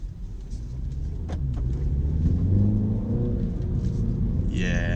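A 2018 MINI Cooper S with a 2-litre turbocharged petrol engine pulls away in sport mode, its low engine note rising steadily as it accelerates, with a constant rumble under the cabin throughout.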